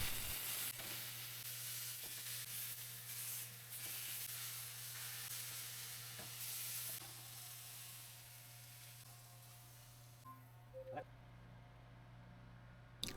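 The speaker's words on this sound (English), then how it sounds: "I then seared all 3 pieces for about 2 minutes on each side" Three pieces of baking-soda-marinated tri-tip beef searing in a hot pan, a steady loud sizzle and hiss close up that runs throughout, easing and thinning toward the end with a few clinks.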